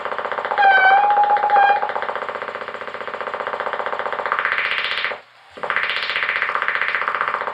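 Custom Poket Roket analog synthesizer mixing two oscillators, a loud buzzing, distorted drone with a brief whistling pitch glide at the start, filter sweeps rising and falling, and a short dip around the middle.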